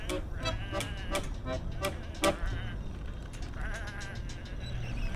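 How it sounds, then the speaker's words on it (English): Sheep in an adventure video game bleat in a rapid series of short, nasal calls, several overlapping in the first half, then a quieter stretch with faint background ambience. "these are just sheep."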